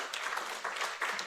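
Audience applause at an annual general assembly, a steady broad wash of clapping that swells in a few waves across a short stretch, fairly faint and distant, with no voices over it.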